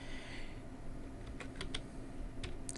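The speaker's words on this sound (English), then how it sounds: "I'm going to go ahead and type in the IP address of the DVR" Faint keystrokes on a computer keyboard as an IP address is typed at a workstation, a few scattered clicks in short bursts over a low steady background hum, quiet and close, no talking.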